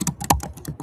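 Rapid typing of code on a computer keyboard, close and clear, with a quick run of crisp key clicks and one heavier keystroke in the middle.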